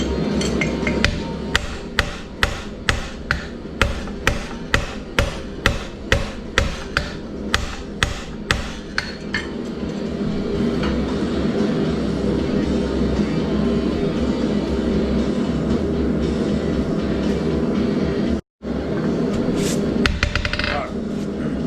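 A hammer rings on hot steel over an anvil edge while drawing out a taper for a forged fireplace brush, about a dozen rhythmic close strikes, then a steady noisy stretch with faint voices in the background.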